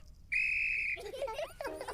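A police officer's whistle gives a single loud, steady blast lasting over half a second to signal the start, followed by cartoon voices talking.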